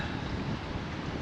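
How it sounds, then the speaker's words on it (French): Strong wind buffeting the microphone outdoors beside a Yamaha motorcycle, a continuous broadband roar with low rumble and no gaps, loud and close for about a second. "Mais il y a du vent, les amis."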